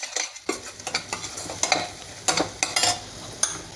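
Dry ground spices, turmeric, coriander and cumin powder, are stirred in a pan for dhaba-style palak, giving a close run of quick scraping strokes in an uneven rhythm, with no voice over them.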